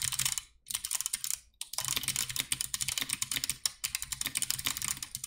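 Rapid typing on a mechanical keyboard fitted with Box Jade switches, a dense run of sharp clicky keystrokes close by, with two short pauses early on and no talking.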